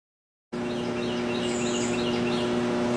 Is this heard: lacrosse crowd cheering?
no